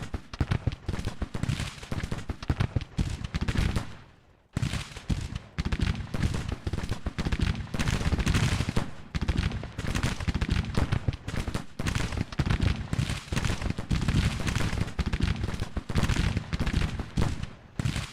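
Civil War battle gunfire from Colt revolving rifles and musketoons in a strategy game: dense, continuous volleys of overlapping shots and crackling bursts, loud and relentless, with one brief lull early on.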